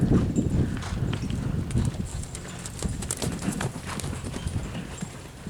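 Horse trotting during a riding lesson, a steady rhythmic clip-clop of hooves close by, with faint creaks and background noise.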